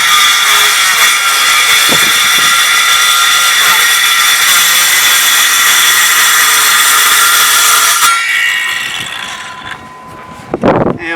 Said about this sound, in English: what I'm going to do now is just make a cut near the cabin house with this saw